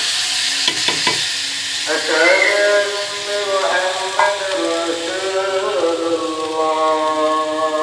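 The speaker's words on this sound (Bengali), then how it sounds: "এখন পেঁয়াজ আর রসুন কুচি দিয়ে দিব।" Chopped onion and garlic hit hot oil in a pan where green chillies were frying, giving a loud, steady sizzle with bursts of stirring and scraping over it, and someone talks quietly underneath.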